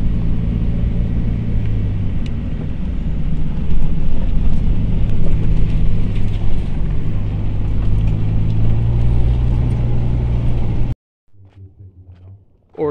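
A car cruises slowly through a neighborhood near Bombay Beach by the Salton Sea, a loud continuous low rumble with road and wind noise from inside the cabin, cutting off abruptly near the end.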